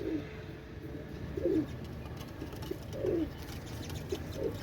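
Pakistani pigeons, two females, coo softly in a few separate low rolling calls, spaced a second or so apart, over a quiet background hum.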